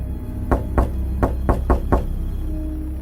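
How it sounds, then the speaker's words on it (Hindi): A second round of knocking at a house at night: six firm raps in a fairly even rhythm, close and prominent, followed by a quiet low background hum. "फिर दूसरी दस्तक हुई।"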